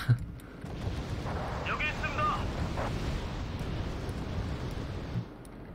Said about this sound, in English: these F4s, they just unleash this barrage of missiles